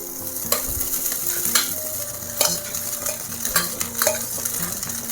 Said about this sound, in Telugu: చక్కగా అంతా కలిసేటట్టుగా కలుపుకోవాలి